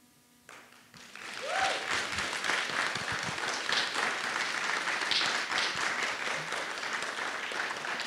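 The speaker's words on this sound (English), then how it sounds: "I want to give a special round of applause to this very special person" An audience at a college unity day student peer mentor service event breaks into applause after a brief quiet moment, building quickly into sustained, fairly loud clapping from many people that continues steadily.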